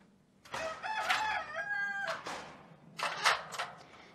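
A rooster crows up close, one long full cock-a-doodle-doo followed after a short pause by a second, shorter crowing call in a quiet setting.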